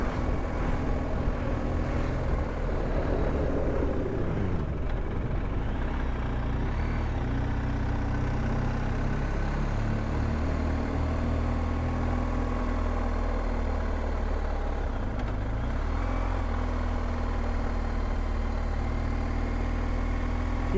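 Adventure motorcycles idle and roll past on a West Country road, a steady low engine rumble that swells as bikes pass near 3 and 15 seconds, with no talk.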